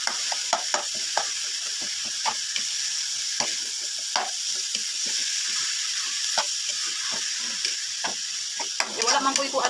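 A banana blossom mixture with meat sizzles steadily in a pan for a torta, while a utensil stirs and scrapes it in irregular close taps over the constant frying hiss.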